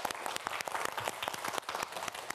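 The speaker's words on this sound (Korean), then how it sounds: "박수 한번 보내주세요" A small studio audience on a televised student quiz show claps, sharp distinct hand claps in a quick uneven patter, moderately close and fairly quiet, with no speech over it.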